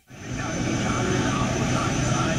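A US-built Globemaster military transport plane flies at an air show alongside Surya Kiran aircraft, producing a loud, steady engine roar that swells in quickly and holds without a break.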